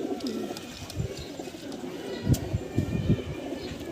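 Several foreign pigeon breeds kept at a house coo in low, repeated bursts, with a few louder, closer coos near the end over a steady murmur of birds.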